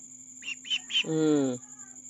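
Young chicks, 26 days old, crowded together in a basket, give a few quick high peeps in succession, followed by a brief voice-like sound, close and fairly soft.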